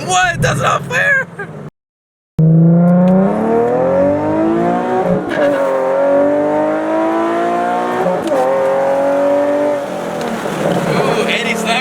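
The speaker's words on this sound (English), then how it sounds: "Eddie slamming gears." A Nissan 370Z on air suspension accelerates hard with loud engine revs climbing through gear shifts, a brief silent gap near the start, and people talking over the roar.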